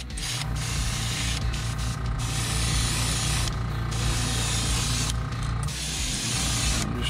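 Airbrush spraying pearl white paint over a crankbait lure, a steady continuous hiss with a low compressor hum underneath, broken by a few brief pauses, close and fairly loud with no talking.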